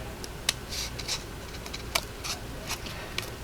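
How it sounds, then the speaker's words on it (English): Scissors snip through scrap paper along a stitch line in quick, irregular clicks and short crisp cuts, close and fairly quiet against a soft background hiss. "You just follow your scissors around"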